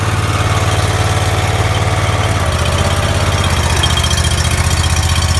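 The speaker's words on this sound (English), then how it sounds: "Reverse the agitator so it runs in a counterclockwise rotation" Engine of a Paviseal tanker idles at steady throttle with its agitator turning in reverse, a loud continuous low rumble with a faint rhythmic mechanical churn and no voices.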